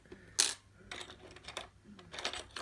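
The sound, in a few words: keys for stainless steel disc lock jangling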